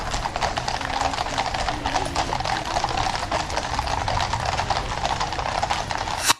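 Guards' horses clip-clop along a London street, with a steady stream of many hoofbeats close by over outdoor street noise.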